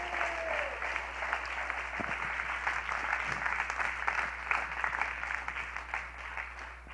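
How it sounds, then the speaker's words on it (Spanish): A church congregation applauds steadily and loudly for several seconds, a dense continuous clapping across the room. "Vamos, apláudele fuerte la sangre de Jesucristo."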